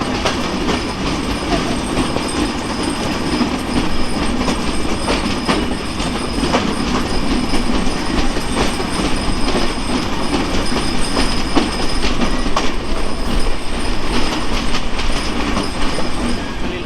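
Madhumati Express train running on rails between Rajshahi and Dhaka, heard up close as a steady, loud rumble with rhythmic wheel clatter and faint squeal that lasts throughout, with no talking.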